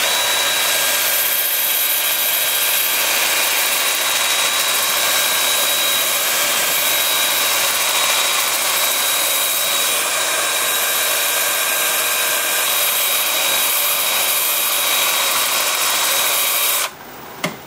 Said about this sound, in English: with the lathe spinning in reverse at about 410